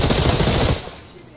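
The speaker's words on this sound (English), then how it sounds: "he got the shot off!" Gunfire from a weapon in the video game Escape from Tarkov, a dense loud burst of rapid shots lasting under a second before dropping away to quieter background.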